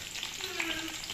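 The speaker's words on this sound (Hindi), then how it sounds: "तड़का तैयार कर लिया। जब ये ब्राउन हुआ तो हमने साग के ऊपर तड़का डाल दिया।" Green chilies, whole dried chilies, garlic and cumin seeds sizzle in hot oil for a tadka, a dense, steady crackling fry heard up close without pause.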